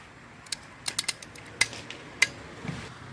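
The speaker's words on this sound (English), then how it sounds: "When you go to install the bolts, hold the ratchet like this." A ratchet clicks while tightening valve cover bolts on a Mercedes M113 V8, a handful of sharp mechanical ticks in uneven bursts, close and alone.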